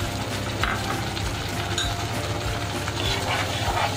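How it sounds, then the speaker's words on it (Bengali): Vetki fish curry with added water bubbles and simmers in a pan, a steady sizzling, bubbling wash close up with occasional faint clinks, and no talk over it. "দেখো আমার তরকারিটা ফুটে উঠছে"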